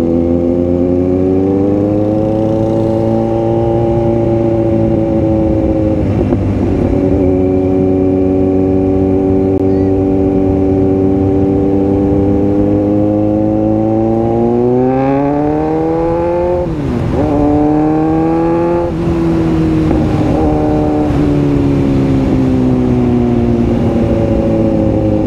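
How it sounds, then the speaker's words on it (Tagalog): A motorcycle rides along a provincial road with a loud, steady engine drone close by. Its pitch rises and falls as the rider shifts and changes speed. "ang sarap magmotor sa probinsya kasi ganito yung pinagmumuturan mo"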